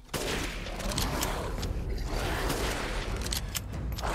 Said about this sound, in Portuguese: Tentar dar um tiro com, com essa arma aqui.